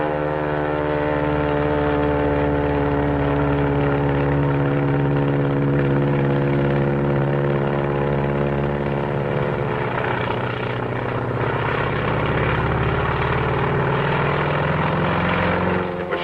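Japanese Zero fighter plane in flight, its propeller engine a loud, steady droning roar with strong tonal harmonics that holds throughout, shifting slightly in pitch partway through as if passing or changing power.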